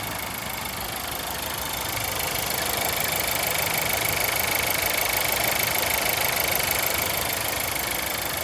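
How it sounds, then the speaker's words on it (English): An Audi A4 engine idles steadily and evenly nearby, a continuous smooth mechanical hum with a faint rhythmic ticking, no voices. "You can hear the engine absolutely running nice and smooth."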